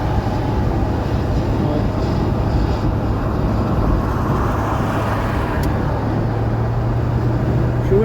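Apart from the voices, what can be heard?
wind noise through open window of 1981 Cadillac Seville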